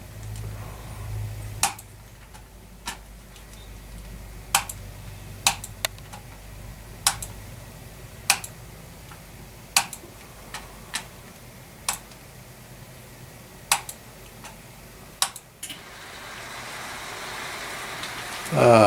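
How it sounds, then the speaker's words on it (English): Model railroad controls on an On3 layout all setting to their presets, heard as a series of sharp, isolated clicks spaced a second or two apart over a quiet room, with brief talk near the start. "that noise you heard was all the presets, all getting set to a preset."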